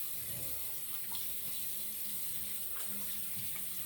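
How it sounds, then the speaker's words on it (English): Hot water running from a bathroom tap before shaving, a steady hissing, splashing stream with no break, heard quietly and fairly close. "We're just gonna put it under some hot water"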